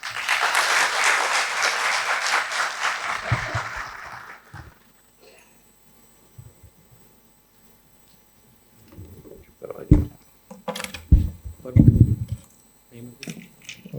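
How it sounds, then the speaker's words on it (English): Audience applause, dense clapping for about four seconds that fades out, followed by silence and then faint scattered taps and murmurs. "So, once again, with a round of applause."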